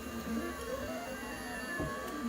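A 3D printer printing ULTEM (PEI) filament at high temperature, a quiet steady mechanical hum with faint stepper-motor whines and soft clicks, heard close but low in level.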